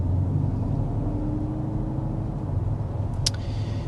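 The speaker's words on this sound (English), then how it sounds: "Just doing a more leisurely acceleration" A BMW X6 accelerates gently with a steady, muffled engine hum at moderate level and a brief light click near the end.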